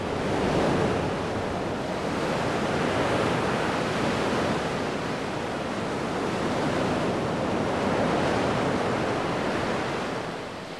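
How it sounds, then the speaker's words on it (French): Ocean surf breaking steadily on a beach in southwest France during a morning lifeguard rescue training, a continuous loud wash of waves with gentle swells in intensity and some wind noise, no voices. "cette fois, Charlotte arrive à passer les vagues pour la simulation de sauvetage"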